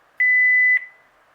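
A single sustained electronic record-tone beep from a VTech cordless phone's digital answering system, a clean steady pitch lasting about half a second with clicks at start and end, in quiet surroundings.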